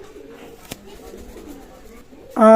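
Pakistani Teddy pigeons coo softly in a loft, a low throaty murmur under background noise, ending in a sudden loud burst of voice or music.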